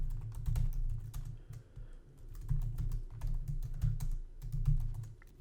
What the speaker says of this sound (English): So I'm just going to type something out here.